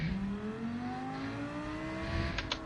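Race car engines revving and pulling away at a race start in a sim racing game, a rising whine of several engines climbing in pitch together over a steady drone, with a few brief clicks near the end.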